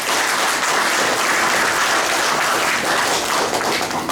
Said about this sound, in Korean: 적극적으로 협력해 주시는 뜻에서 우리 박수 한번